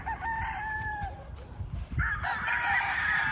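Young pullets on a farm range, clucking and calling in a lively, continuous chorus with some rooster-like crowing notes, close by and without talk.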